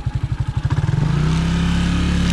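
A modest, not very powerful motorcycle engine chugs unevenly up close, then revs up into a steady, loud drone, on a road in Gabon.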